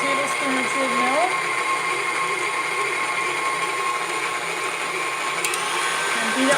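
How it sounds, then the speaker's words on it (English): An electric mixer beats vanilla frosting on high, a steady close whirring motor drone with slight pitch shifts as the beaters work, running continuously. "And beat it on high until it gets the nice consistency that I want for vanilla frosting."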